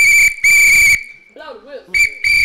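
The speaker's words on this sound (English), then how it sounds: "Blow the whistle." Loud, shrill whistle blasts during a live stream, two long bursts split by a short gap, then a brief break with faint murmuring before two more sharp blasts.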